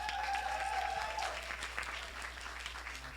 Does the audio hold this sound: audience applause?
yes